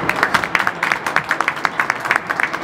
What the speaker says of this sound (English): give yourselves a huge round of applause for everybody that's turned up today and helped put a great tournament on